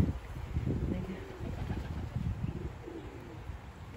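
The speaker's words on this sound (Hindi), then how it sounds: "कबूतर वहाँ टेबल के नीचे छुप गए हैं" Pigeons coo softly from under a table outdoors during rain, their low murmuring calls repeating under a steady wash of rainfall and background noise.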